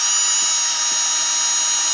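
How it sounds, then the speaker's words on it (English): A loud, steady high-pitched whine of a power drill boring into wood, continuous and close for a couple of seconds. "Then we drill a hole in the middle."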